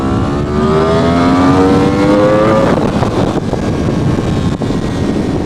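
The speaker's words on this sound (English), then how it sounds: "I can crack the throttle a little here to go through that rev range, just to tell you guys how it feels. Second gear pull." A Yamaha R1M motorcycle pulls hard through second gear, its engine note climbing steadily in pitch as revs rise, then easing off, loud and close with strong wind rush over the rider's microphone.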